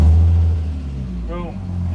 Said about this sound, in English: Boom, it starts right up